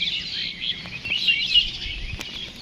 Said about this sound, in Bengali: নিলিবিলি ঠান্ডা পরিবেশের এবং পাখির ডাক